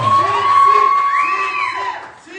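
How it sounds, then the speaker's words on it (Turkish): Audience at a graduation ceremony cheers and whoops loudly, with crowd noise and a high whistle-like tone running through most of the burst before it eases near the end. "Bu kadar mı Rabia'ya alkışlar?"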